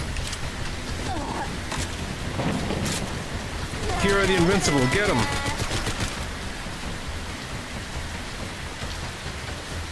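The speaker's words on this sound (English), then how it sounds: "Wouldn't you know the radiation storms are happening right now too?" A radiation storm pours steady rain in the Fallout London video game, a constant hiss that swells midway while rapid gunfire bursts and a shouting voice cut through.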